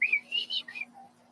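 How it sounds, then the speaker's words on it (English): A person gives a chirper whistle to call a dog: a few quick, high, bird-like chirping whistles in short bursts, close and clear, trailing off into quiet. "I had him on the chirper whistle."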